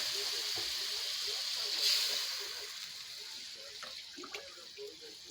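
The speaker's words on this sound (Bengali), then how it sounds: "পরিমাণ মতন পানি দিয়ে দিলাম।" Water is poured into a pot of spiced curry as it cooks, a soft steady splash and trickle under a voice that talks briefly.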